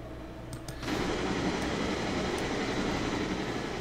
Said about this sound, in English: So this train can actually go a little bit faster.